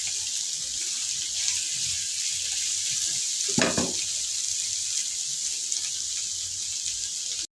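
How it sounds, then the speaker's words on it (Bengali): Food fries in a pan, a steady sizzle with a brief stir or clatter near the middle, close and clear with no talking. "তাহলে এখানে আমি একটু ভেজে নিব এটা।"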